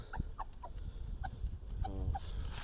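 Six small backyard chickens cluck softly in a coop in short, scattered calls, with one quick stuttering burst of clucks, over a low background rumble.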